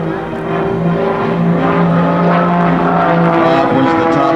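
An MX-2 aerobatic airplane flies maneuvers at a 2008 New England airshow, its engine droning loudly and steadily with a strong, slowly shifting pitch throughout.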